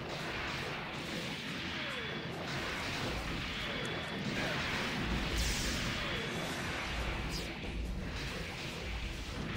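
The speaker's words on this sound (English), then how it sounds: "And explosions." Explosions in the Dynasty Warriors Gundam video game on PS3: dense, continuous battle noise with repeated booms, crashes and whooshes layered over one another at steady loudness.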